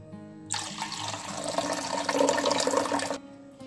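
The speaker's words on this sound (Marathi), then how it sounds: "यामध्ये मस्तपैकी थंड पाणी ओतूया" Cold water pours steadily into a vessel for about three seconds, a continuous splashing rush that starts and stops abruptly.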